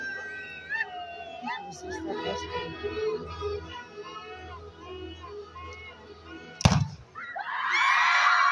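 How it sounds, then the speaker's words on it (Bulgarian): At a reenactment of robbers raiding a village, one sharp gunshot-like bang rings out amid talking and high cries, followed by loud, sustained crowd shouting. "С силни гърмежи и викове, разбойниците нахлуват в селото."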